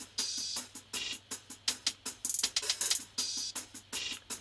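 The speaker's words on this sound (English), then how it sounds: "So all together, the hats are like this." Crisp hi-hat pattern in a beat: rapid, tightly spaced ticks and short open hats in a syncopated rhythm with quick rolls, bright and dry, playing alone without other instruments.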